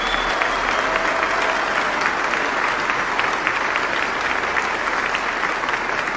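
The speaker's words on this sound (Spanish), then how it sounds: "Un aplauso para la Virgen María." A church congregation applauds in honor of the Virgin Mary, dense steady clapping from a large crowd filling the room at even loudness for several seconds, with no speech over it.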